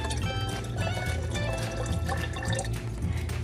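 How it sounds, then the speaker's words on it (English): Small water pump pushing water up through a fountain filled with orbeez water beads: continuous bubbling, trickling and dripping with a low steady pump hum underneath, close and fairly loud. "Sucks water in from underneath and pushes out through the top of the pump."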